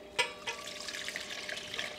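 Water pours into a slow cooker for a crockpot recipe, a close, continuous splashing stream that starts with a brief knock and runs on unevenly, with no talking.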